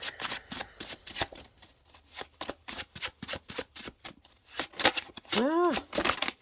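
A deck of cards being shuffled repeatedly in quick riffling bursts, close by, ending in a longer ruffle and a bright bending flutter.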